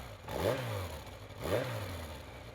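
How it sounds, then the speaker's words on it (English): A video game motorcycle engine in Spirit Hunter: NG revs up twice in quick succession, rising pitch sweeps over a steady engine drone, fairly close and continuous. "I grab my motorcycle at my apartment and zip off to Shinza Station."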